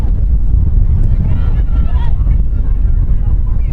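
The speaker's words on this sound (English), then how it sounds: "It's very windy at the moment." Heavy wind buffets the microphone at an outdoor field during a youth ultimate frisbee girls' state championship final, a constant low roaring rumble lasting the whole stretch, with faint voices underneath.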